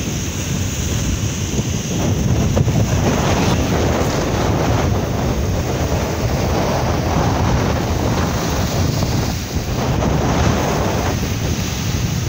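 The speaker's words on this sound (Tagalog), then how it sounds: "masyadong lumaki ang dagat." Rough sea surf whipped up by a typhoon off Ozamiz, a continuous loud roar of waves mixed with heavy wind buffeting the microphone.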